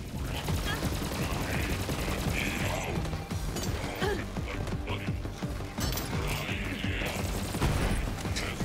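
Automatic weapon fire in the video game Borderlands 3 rattles in rapid bursts with mechanical clanks and impact crashes, dense and continuous, with someone talking over parts of it.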